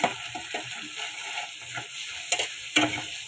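Dal being pan-fried and stirred in a cooking pot, with soft scraping stir strokes over a low sizzle and a couple of sharper clinks near the end.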